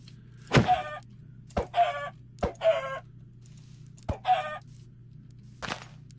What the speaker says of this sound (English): More chickens.